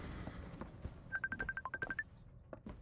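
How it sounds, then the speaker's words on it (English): A phone call comes in during a Bioshock Infinite play session: a faint, rapid string of electronic ring tones sounds in the middle, under quiet background noise. "Oh no, I got a phone call coming in."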